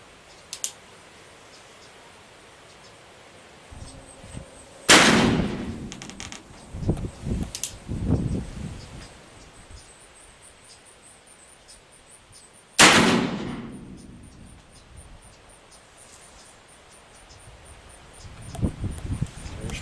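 Two sharp, loud gunshots from a Pietta 1858 Remington New Model Army black-powder revolver at an outdoor range, spaced several seconds apart, each with a rolling decay, among faint clicks and handling noises.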